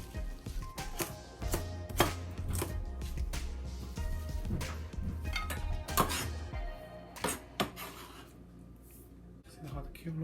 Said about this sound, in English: We cut the kale. We try to cut